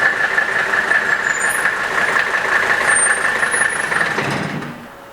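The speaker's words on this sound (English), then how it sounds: "So follow along as we pull this car into the shop" An early Mercedes diesel car rumbles steadily as it pulls into a repair shop, with a constant engine drone and a high tonal whine carrying throughout before the sound drops away at the end.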